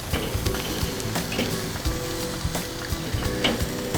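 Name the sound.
bison burgers sizzling over the fire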